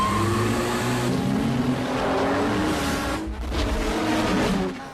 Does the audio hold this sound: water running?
no